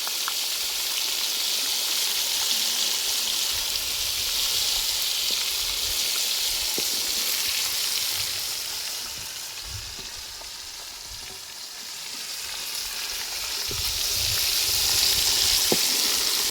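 Snakehead fish frying in hot oil over an outdoor fire, a loud, dense, continuous sizzle and crackle that dips briefly in the middle before swelling again, with no voices.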